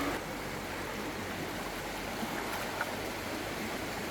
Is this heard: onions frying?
no